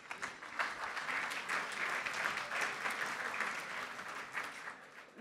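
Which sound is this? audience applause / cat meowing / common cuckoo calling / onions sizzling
audience applause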